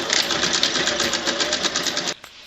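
A sewing machine runs a straight stitch along stretchy t-shirt side seams, a steady rapid needle chatter lasting about two seconds before stopping abruptly, close and clear with no talk.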